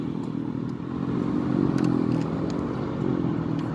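Motorcycle engine idling and rumbling close by at a roadside police stop, a steady low throb that swells slightly midway, with faint clatter and no speech.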